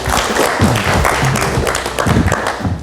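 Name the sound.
studio audience applause for guest Ruby Alamsyah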